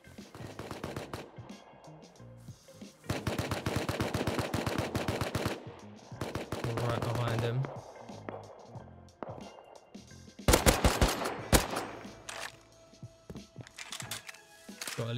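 AK rifle gunfire in the survival game Rust, with repeated bursts of rapid automatic shots in several clusters, loud and close, separated by short quieter gaps.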